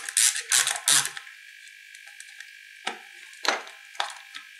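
A ratchet loosens a carburettor screw on a Speedfight scooter, with bursts of quick clicking up close. A cluster of clicks comes at the start, then a few scattered single clicks follow after a pause.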